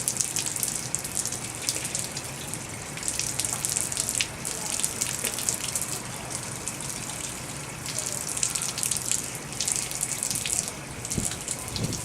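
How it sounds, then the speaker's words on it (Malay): Tap water runs continuously during Islamic ablution while someone rinses mouth and nose, a steady close gush with small splashes and drips and no talking. "kita berkumur serta menyedut air ke hidung dan menghembus keluar semula"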